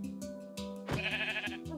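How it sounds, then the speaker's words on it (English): Sheep bleating in Minecraft, a few short wavering bleats, close and clear over a steady game music or ambient background. "Oh, and there's a sheep."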